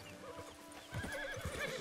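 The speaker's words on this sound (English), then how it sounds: "bring your horse and put him right here" A horse neighs in Red Dead Redemption 2 Online, a clear whinny rising in the second half over steady game ambience, with no talking.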